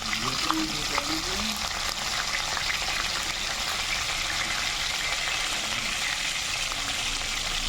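Garlic, curry leaves, green and dried red chillies with cumin crackle and sizzle steadily in hot oil, a continuous close frying hiss with brief faint speech near the start.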